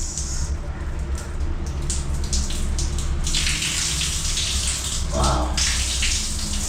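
Shower water runs steadily on a hot day in Mombasa, Kenya, a continuous close hiss of spray with a brief exclamation from a voice partway through.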